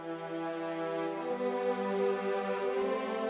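Audio Imperia Nucleus sample-library strings play a sustained second violin line, rich harmonic tone held steadily and fairly soft, alone with no voices.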